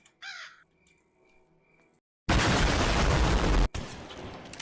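A crow caws a few times in the horror video game Granny 3, then a loud burst of heavy gunfire cuts in and continues, with game-like sound effects.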